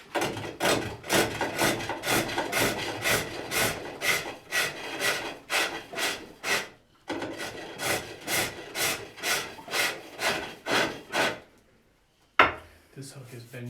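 Rhythmic rasping strokes of a small hook tool cutting into green wood on a foot-powered pole lathe, shaping a handle; steady repeated cuts in pairs, close and fairly loud, with a brief pause near the end.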